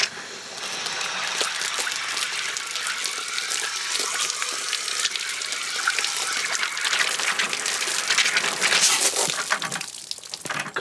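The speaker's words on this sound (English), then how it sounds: "I'm going to take my water hose and just gently see if I can" A garden water hose gently flushing the plugged cooling drain hole of a 1990 Johnson 15 HP outboard motor, giving a steady close hiss and splash of running water with faint clicking, continuous for the whole stretch with no talking.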